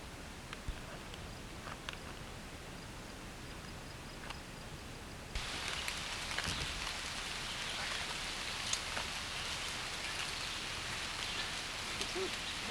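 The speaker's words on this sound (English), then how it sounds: "It's raining out" Steady rain falls throughout in the Smoky Mountains, a soft broadband hiss with occasional distinct drops, growing noticeably heavier and louder partway through.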